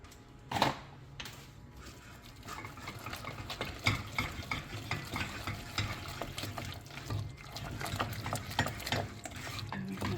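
A spoon stirring cheese sauce into pasta cooked in its starchy water in a pot: soft continuous wet squelching with light scraping against the metal, close and fairly quiet.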